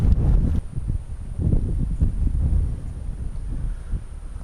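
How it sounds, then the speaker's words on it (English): Heavy wind buffeting the microphone at an outdoor rifle shoot, a constant low rumbling roar with gusty surges and no other clear sounds. "The wind today is just absolutely brutal."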